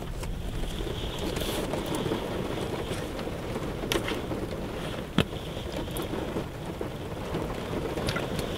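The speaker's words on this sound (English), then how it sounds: "Let you guys hear the rain for a bit." Steady, heavy rain pours from a thunderstorm in a dense continuous hiss, with a few sharp cracks of thunder and a loud crack near the middle, and no voices.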